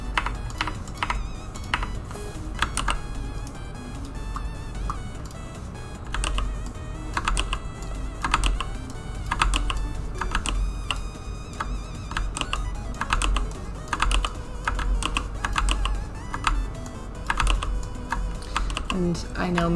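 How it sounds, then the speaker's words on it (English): A clacky computer keyboard typed on steadily at a desk, crisp sharp key strikes in quick irregular bursts, close and fairly loud throughout over a low steady hum. "And I know my keyboard is very clacky."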